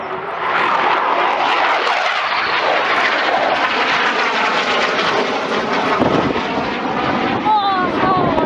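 A Eurofighter Typhoon climbs away after takeoff at an air show, and its loud, roaring jet engines fill the whole stretch, with onlookers talking over the noise.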